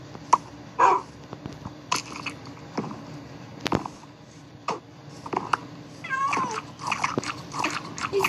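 Minecraft animal eating food, with short crunchy bites and munching sounds repeating irregularly, mixed with other game noises and small squeaky tones.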